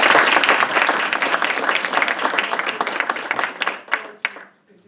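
An audience applauds at the close of an evening forum at Harvard Business School, dense loud clapping that thins out over several seconds into a few scattered final claps.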